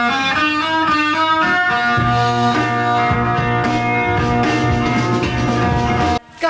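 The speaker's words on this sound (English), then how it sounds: "that's a cool opener to a song" A loud, dense rock song opening with distorted guitars and driving rhythm, on vinyl, playing continuously before cutting out abruptly near the end.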